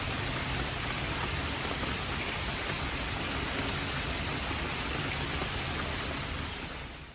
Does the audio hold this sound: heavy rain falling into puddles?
yes